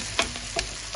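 Ginger and garlic sizzling in hot oil in a pan while beef tripe is being cooked, a steady close frying hiss with a few brief scraping stirs.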